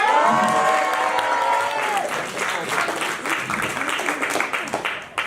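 A comedy club audience at a Toulouse stand-up show bursts into sustained applause, dense clapping mixed with some cheering that holds steady for several seconds, with a briefly held sung or shouted note at the start.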